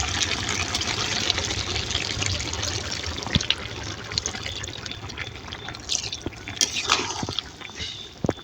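Broth pours and trickles steadily into a pot of snakehead fish and bottle gourd curry, with scattered small splashes and drips over a constant watery hiss.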